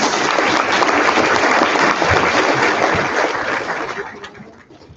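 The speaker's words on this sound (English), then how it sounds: "Let's give them a round of applause, please." A banquet audience at a high school sports awards event breaks into loud, dense applause that holds strongly for about four seconds before tapering off quickly at the end.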